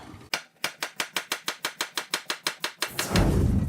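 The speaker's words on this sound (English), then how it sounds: "2 big carrots, same deal. Peel them, slice them up." A knife slices peeled carrots on a cutting board for gluten-free minestrone soup, producing about fifteen evenly spaced, crisp chops close up, followed by a brief rustle as the pieces are moved.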